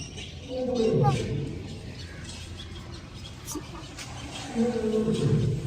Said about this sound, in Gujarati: અત્યારે ગરજાત કરે છે ને અવાજ જો તમે કેટલો સંભળાય છે